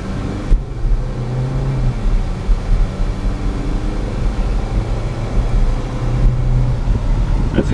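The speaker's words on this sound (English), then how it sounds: "As you see, the transmission shifts correctly." Interior drive in a 2009 Hyundai Accent GLS sedan with automatic transmission, a steady low engine and road rumble running throughout with slight rises and dips as the gearbox shifts, no voices.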